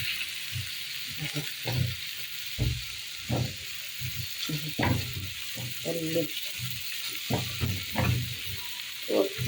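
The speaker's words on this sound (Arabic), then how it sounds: "الكزبره ما بتاخدش سوا زي الثوم، عشان كده بنحطها بس في لحظه الطشه كده" Coriander frying in hot oil for a molokhia tasha, a steady close sizzle and hiss with intermittent stirring clatters and a voice talking over it.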